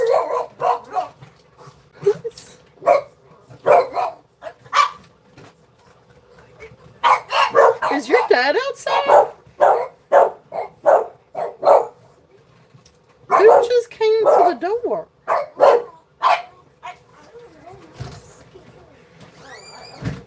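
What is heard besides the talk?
dogs barking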